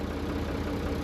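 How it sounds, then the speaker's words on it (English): A tractor engine idles nearby, a short steady mid-to-low mechanical drone with a faint regular pulse and no voices. "I'm going to put the tractor back under the shed"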